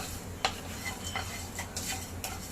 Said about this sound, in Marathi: आता आपले मसाले पण भाजत आलेत आणि खोबरं पण भाजत आले